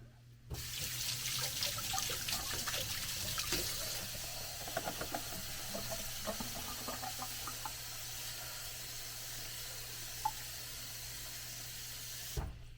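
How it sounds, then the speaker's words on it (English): Tap water pours steadily into a bowl of berries sprinkled with baking soda, a continuous rushing hiss lasting about twelve seconds with no one talking. "And then you're just going to fill it up with water."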